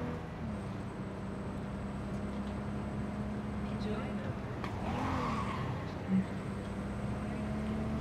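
A car driving in the video game Cyberpunk 2077, a steady engine drone with a brief rising tire squeal midway, while a voice talks throughout.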